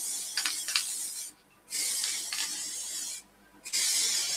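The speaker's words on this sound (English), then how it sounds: "Using some rattle can cellulose standing sealer." Cellulose sanding sealer sprayed from a rattle can onto a turned wooden bowl, heard as close, loud hissing bursts, two long sprays separated by brief pauses.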